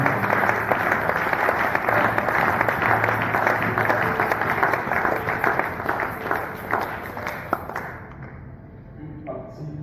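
A church congregation at a Pentecost service claps and cheers loudly and continuously, a dense wall of applause that fades out near the end.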